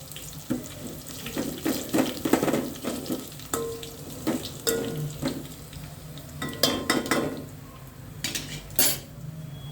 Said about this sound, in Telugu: చూడండి ఎండు మిరపకాయలు ఏగినట్లుగా ఎర్రగా అవుతాయి తెలిసిపోతుంది